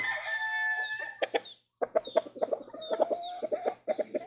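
A rooster crows at the start, followed by a run of repeated clucks and short calls from chickens, loud and close in a rural setting.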